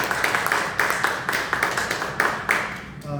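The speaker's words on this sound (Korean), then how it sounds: "우리 박수로 축하하고 감사합니다" A church congregation claps together in celebration and thanks for members' birthday gifts of snacks and rice cakes, a fairly loud, rhythmic patter of many hands that fades out at the end.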